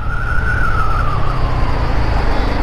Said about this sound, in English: That howl from the engine.